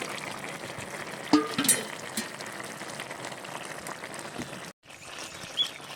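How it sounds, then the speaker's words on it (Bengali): Fish simmers in shukto curry in a pot, with a soft, faint bubbling and a few light clinks and stirring knocks, and no voices. "মাছ দিয়ে আমি আবারও বেশ সুন্দর করে ফুটিয়ে নেব।"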